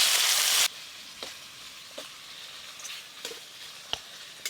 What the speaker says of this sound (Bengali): এবার অল্প একটু জল দিয়ে খুব ভালো করে একসঙ্গে সব কিছু কষে নেব।